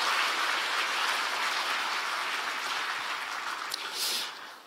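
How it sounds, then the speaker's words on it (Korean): A seated audience at the 2024 Dongdaemun-gu New Year greeting event applauds Seoul mayor Oh Se-hoon with a sustained, dense clatter of many hands that eases off near the end. "서울시를 대표하여 이 자리에 참석해 주신 오세훈 시장님께 박수 한번 부탁드리겠습니다."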